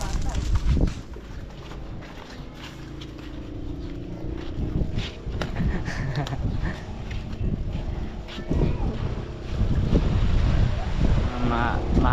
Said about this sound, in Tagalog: Mahangin-hangin konti mga idol.